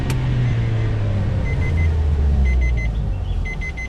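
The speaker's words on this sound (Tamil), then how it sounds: "2nd போட்டு அப்படியே 1st போட்டேன். 1st போட்டு அப்படியே ஹேண்ட் பிரேக் அடிச்சிட்டேன்." Car engine rumbling steadily as the driver downshifts and pulls the hand brake, with faint beeps toward the end.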